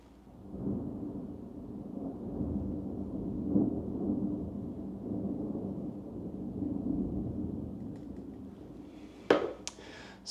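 Low, distant thunder rolls steadily during a grey lightning storm, fairly faint throughout, with a couple of sharper cracks near the end.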